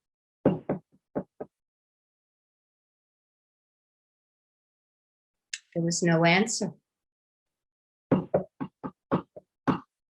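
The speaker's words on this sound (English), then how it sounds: "And she knocked on the door." Sharp knocks on a wooden door of a little house in the woods come in short clustered raps, a group at the start and another later, with a storyteller speaking in between.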